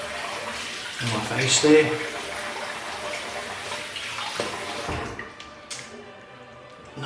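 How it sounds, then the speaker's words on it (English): Water splashing as shaving lather is rinsed off the face after a wet shave, a close, continuous running and splashing sound with a brief louder splash, while someone talks over it. "I'll just rinse off and there's still a nice layer"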